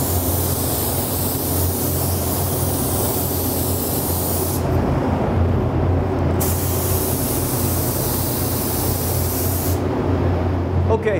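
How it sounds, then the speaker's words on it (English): A spray gun hisses continuously, laying down the lightest yellow coat of a candy fade paint job, loud and close with brief pauses between passes. "I'm going to spray the whole area the lightest color first, in this case, Jaquili Yellow"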